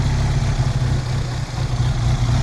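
A Vauxhall Cavalier's C20XE engine idles with a slight murmur, giving a steady low, close rumble with a gentle uneven pulse and no voices.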